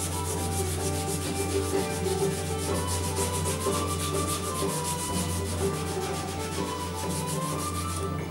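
Steady, vigorous rubbing of a stiff cloth with pumice against a wooden cello neck, a continuous close-up scrubbing sound with a gritty, rasping texture and no talking.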